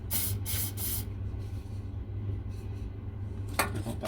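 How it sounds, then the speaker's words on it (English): GT85 lubricant sprays from an aerosol can in three quick hissing bursts, then a later short one, close up in a workshop over a steady low hum during a Mk1 Cortina restoration. "That's spray that there."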